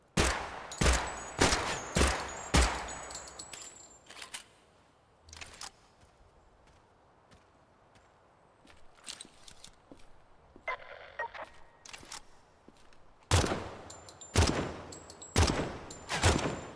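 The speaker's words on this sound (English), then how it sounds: "Nice shotgun shot." Loud shotgun blasts in a shooter video game, firing in two rapid clusters of about five shots each, separated by a quieter stretch holding a few scattered lighter pops and clicks.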